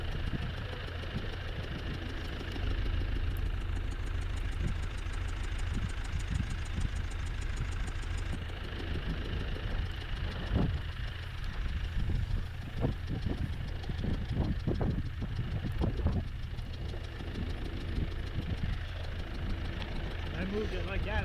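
A skidder's engine runs steadily at idle with a low rumbling drone throughout, while people talk over it and occasional knocks and clunks break in.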